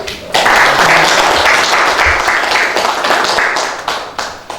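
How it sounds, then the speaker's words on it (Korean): A room of people bursts into sustained applause, loud and close, welcoming a newly appointed head of the Democratic Peace Party's ethics tribunal at a party leadership meeting; the clapping swells then gradually thins toward the end. "박수로 환영합니다"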